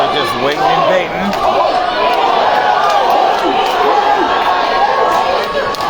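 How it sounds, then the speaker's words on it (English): A loud crowd at a live Muay Thai event shouts and chants for the fighters, a dense roar of many voices with overlapping calls throughout, and a nearby commentator talking over the din. "Hear this fucking crowd. Some calling for Albert, some calling for Hoyt."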